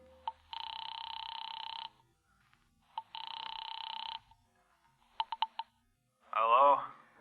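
A radio-drama telephone, with clicks of dialing, two long electric rings, and a quick burst of rapid clicks, ending in a garbled voice on the line; close and clear.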